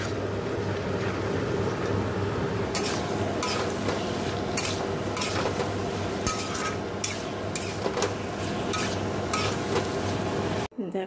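Whole spices and ground masala being stirred and fried in a pan, with a dense continuous sizzle and a series of sharp utensil scrapes and knocks against the pan.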